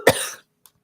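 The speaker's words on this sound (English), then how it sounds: "Oh, sorry about this cough." One sharp cough bursts out close and loud, then trails off into silence with a couple of tiny clicks.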